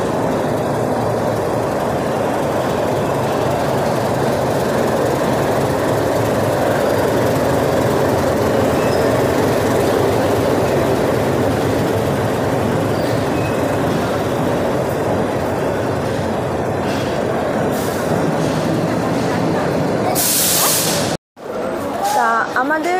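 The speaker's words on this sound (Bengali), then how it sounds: "এখন আমাদের ট্রেন প্ল্যাটফর্মে ঢুকছে।" The Maa Tara Express rolls into a platform with a loud, continuous rumble of wheels and carriages. Faint squeals and clatter rise near the end, and there is a brief dropout just before it stops.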